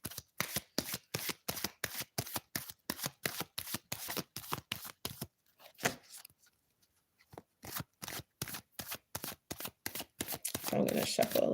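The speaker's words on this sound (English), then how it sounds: "I'm going to shuffle a little bit" Tarot cards are shuffled by hand in a quick run of crisp riffling bursts, close and clear, pausing briefly midway before the rhythmic shuffling resumes with no voices.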